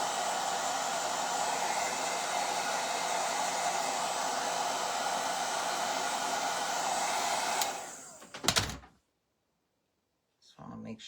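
A hair dryer blows steadily and loudly for about eight seconds while drying a stained wooden bunny pull toy, then shuts off with a clatter before a short silence and some faint movement.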